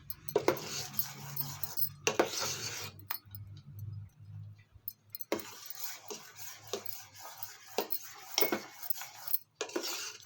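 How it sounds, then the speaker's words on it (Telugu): Sago and moong dal payasam sweetened with jaggery is stirred in a pot, giving repeated scraping and clinking of a spoon against metal in short bursts with pauses, close and fairly clear, over a low steady hum. "బాగా ఇలా తిప్పుతూనే ఉండాలండి లేదంటే అడుగున మాడిపోతాయి"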